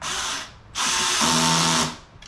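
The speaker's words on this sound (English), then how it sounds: "Drill this down." A power drill driving a fastener into an Adirondack chair whirs loudly nearby in two bursts, a short run, then a longer steady drive that winds down.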